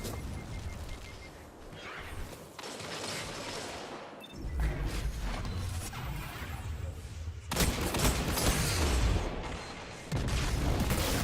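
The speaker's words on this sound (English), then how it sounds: "That was a really good grenade." Combat in Destiny 2 on PC: booming blasts and rolling gunfire come in several loud surges, with one deep explosive burst standing out among the shooting.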